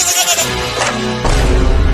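Loud, close goat bleating in a dramatized chase scene, a wavering cry that breaks off and is followed by a second, harsher bleat.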